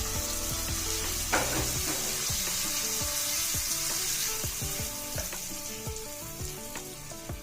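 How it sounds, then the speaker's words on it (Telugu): Tempering spices crackling and sizzling in hot oil for curd rice (daddojanam), a steady loud hiss with frequent small pops and occasional stirring, close up. "దోరగా వేగిపోయి ఈ దద్దోజనంలో కలిపేద్దాం"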